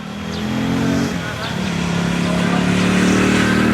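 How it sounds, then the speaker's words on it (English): A motorcycle engine revs on a road in the Philippines, a close, loud, continuous roar that swells and holds steady, with faint voices underneath. "Motorcycle people really love to rev their engines here in the Philippines"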